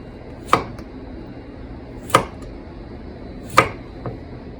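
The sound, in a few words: slicing stem lettuce with a knife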